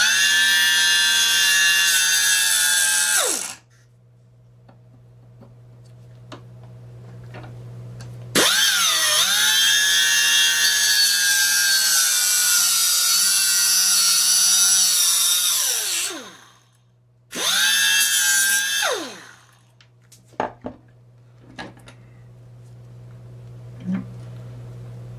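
A power tool cuts into a 1/4 inch drive universal joint in three loud, close bursts of high whining grinding, each winding down, separated by quiet pauses with small clicks.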